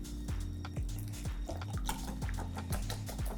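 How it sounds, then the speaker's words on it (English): A whisk beating vanilla cupcake batter in a bowl, rhythmic repeated scraping strokes about twice a second with light metallic clinks against the bowl, close and clear, no speech. "And now we whisk."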